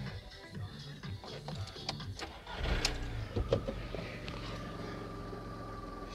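A Skoda Fabia Mk1 idles with the handbrake on during a steering alignment job, giving a steady low mechanical rumble that swells slightly midway, with faint clicks and shuffling nearby and no talk.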